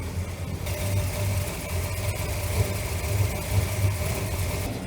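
A car engine idling steadily before a drive, a low continuous rumble with a mild uneven pulse, close by, with no talking over it.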